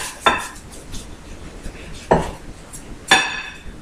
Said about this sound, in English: You will simply put your quesadilla right here, and you can cut it up in half